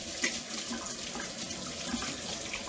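Hot water runs steadily from a tap while hands are washed, a continuous close hiss with light splashing.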